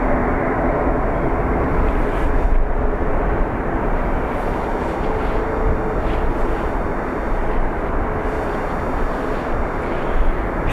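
An Icelandair Boeing 737 MAX 9 passes at Dublin Airport, a steady, loud jet roar filling the whole clip with broad low rumble and little change in level, no voices over it.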